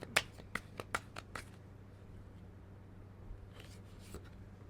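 Tarot cards are shuffled and drawn nearby, giving a quick burst of sharp card snaps and riffles at the start, then quieter handling and faint rustles against a low room hum.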